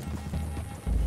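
Horses' hooves clop in a clearing near trees, a few soft, irregular thuds mixed with low rumbling, and nobody speaks.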